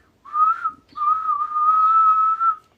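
A single person whistles a steady, fairly high tune in two phrases separated by a short pause, close and clear against near silence, with no talking.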